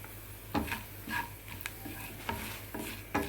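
Seasoning with turmeric fries in a pan for coconut chutney, stirred with a utensil that scrapes and knocks against the pan every half second over a soft sizzle.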